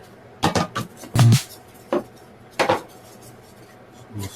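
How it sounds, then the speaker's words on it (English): Epoxy mixture being stirred in a container during a sailing dinghy build, heard as several loud, close, irregular scraping and knocking strokes with quiet pauses between them, no talk. "You just stir this stuff. There's epoxy in it."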